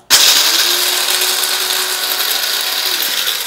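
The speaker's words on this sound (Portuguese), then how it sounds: "Esse daqui é um moedor elétrico, ele é de lâminas" An electric blade coffee grinder grinds coffee beans, whirring steadily and loudly right from a sudden start, a constant high motor buzz with no pauses or talk.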